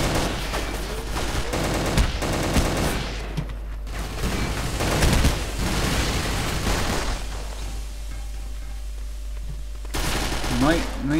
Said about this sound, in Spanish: Me están disparando allá